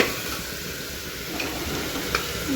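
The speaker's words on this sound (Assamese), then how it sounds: "দালিটো ভাজি ল'লোঁ" Lentils fry in a pan with a steady, close sizzle and a few faint stirring clicks, with no voices.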